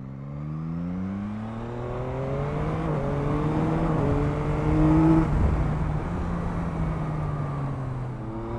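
A Yamaha MT-09 SP 2021 motorcycle engine gives a steady drone with rising and falling harmonic tones as it revs, continuous and fairly close, no voices.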